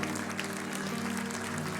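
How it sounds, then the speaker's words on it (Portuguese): A church congregation applauds during a sermon on spiritual warfare and prayer, a short, dense burst of many people clapping, steady and moderately loud with a low background hum. "Vamos aplaudir o Rei da Glória, irmãos"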